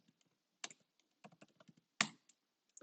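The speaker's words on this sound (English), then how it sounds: "So type in PSQL-U and then Postgres." Someone types a command on a computer keyboard to open Postgres, a few scattered soft key presses with two sharper louder strokes, quiet and close with silence between.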